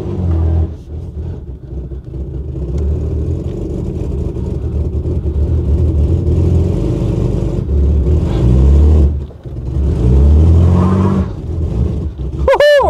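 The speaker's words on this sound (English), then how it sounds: "I got some wheel spinning going on" A 2.8-litre Ford Granada Mk2 Ghia X, abandoned for years, revs loudly while its wheels spin trying to climb a ramp; the engine surges and drops in close, heavy bursts, with talk over it.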